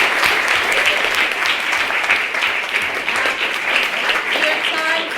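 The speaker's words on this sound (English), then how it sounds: "Second round of applause for a maiden speaker." A debate audience gives a maiden speaker a second round of applause, with sustained, dense clapping at a steady level throughout and a voice faintly emerging at the very end.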